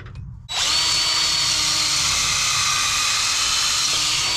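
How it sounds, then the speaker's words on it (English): A power drill spins an extra long pilot bit into wood at a corral, starting abruptly and then whining loud and steady throughout. "So I've got an extra long pilot bit to make sure that I can get back to where I need to go."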